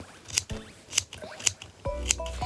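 Tiny snips cutting fabric close to the stitches of a sewn cosplay costume, giving four sharp, close snipping clicks at a steady rhythm with faint handling noise between them.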